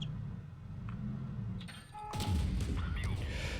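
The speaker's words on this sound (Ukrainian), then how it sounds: "три постріли ми в Є4 даємо" Tank cannon shots in the World of Tanks Blitz video game, with the Object 260 in play: a heavy boom lands near the middle and is followed by dense rumbling low-end impacts, loud and over busy game noise.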